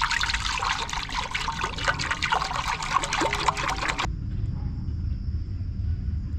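Water pouring steadily into an oil pan on a turbo Honda Civic, a bright continuous splashing trickle for about four seconds that stops abruptly, leaving a faint tone and low rumble.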